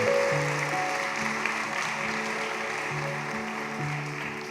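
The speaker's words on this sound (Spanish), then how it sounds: "Démosles otro fuerte aplauso de bienvenida." Audience applause welcomes guests at a Spanish-language gathering, a steady wash of clapping running through the whole stretch with sustained tones underneath.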